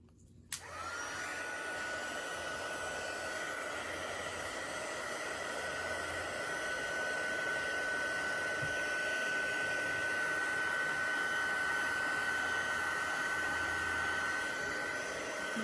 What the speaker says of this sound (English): Let me get my heat tool out, and this might be a little loud